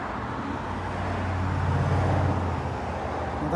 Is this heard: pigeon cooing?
no